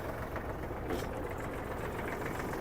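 A Kubota GL-25 mini tractor runs with its cardan shaft turning and the rotary tiller working, giving a steady, continuous mechanical drone at even loudness throughout, with no voices.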